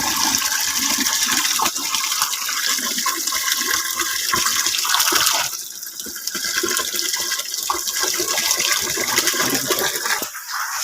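Water gushes and splashes continuously as Friesian cows are bathed in the morning, a loud, steady rush of pouring water that briefly dips midway and then carries on.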